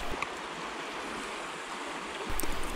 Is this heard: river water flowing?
yes